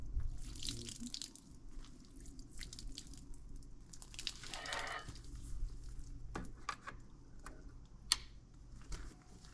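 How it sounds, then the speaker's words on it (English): Water is bled out of an air compressor valve during a pressure test. Faint, irregular spitting and hissing come in short bursts, with drips and small clicks nearby in a quiet space. "I'll probably try to bleed a little bit more water out of that valve real quick"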